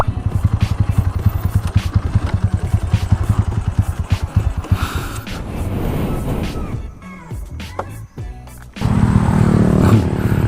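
A red Honda Wave 125 motorcycle climbs Doi Suthep, its engine loud and close with a rapid pulsing beat and revving, then easing and briefly dropping away before surging again.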